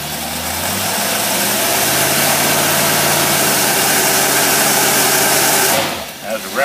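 Car engine fitted with a tri-power carburetor held at high revs against the rev limiter, a loud sustained droning roar that bounces off the limiter before dropping away abruptly near the end.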